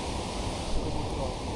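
A Himalayan waterfall near Hemkund Sahib roars as a loud, unbroken rush of falling water, filling the whole short stretch with dense, steady noise and no pauses.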